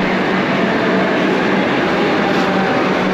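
A Kolkata metro train rumbles along in a steady, loud, continuous roar, heard from close by with no voices.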